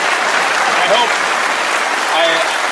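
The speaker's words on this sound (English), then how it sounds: "I hope that applause is for my mom." Dense, loud studio audience applause at a late-night talk show, a steady wash of many hands clapping, with a few voices rising faintly within it.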